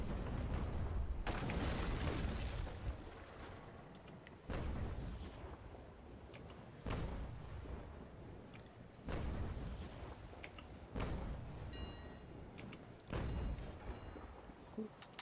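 Heavy ship cannons fire full broadsides in the Naval Action sailing game, several loud deep booming volleys a few seconds apart, each rolling into a long rumbling decay.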